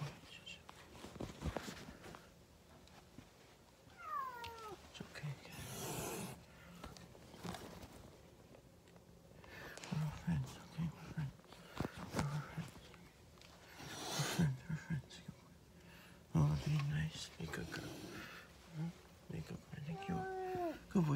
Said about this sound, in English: Come on, Cat. Be nice.